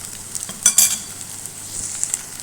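Spiced chicken fries in a pan with black pepper, coriander powder and curry powder, giving a low, steady sizzle punctuated by a couple of sharp stirring clatters near the start.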